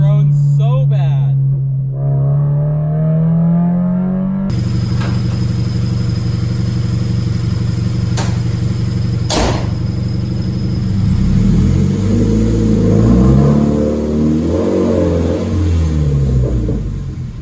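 Subaru BRZ engine revving with a droning exhaust, a deep sustained low hum that rises and falls in pitch through several revs, loud and close, with a brief sharp knock partway through.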